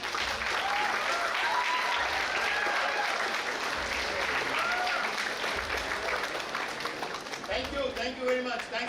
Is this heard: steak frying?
no